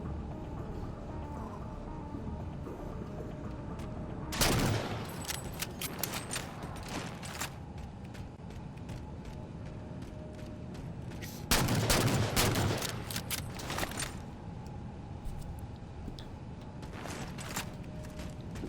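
Rotary autocannon fire in the Halo Spartan Ops video game, heard as two loud sustained bursts of rapid gunfire separated by quieter stretches of game ambience and mechanical noise.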